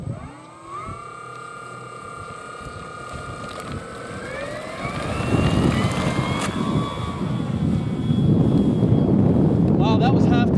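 A Hobbyking Rare Bear 1400mm RC model airplane on its maiden flight with a 200 kV motor, its electric whine climbing in pitch and growing louder as it speeds up, with wind buffeting the microphone throughout.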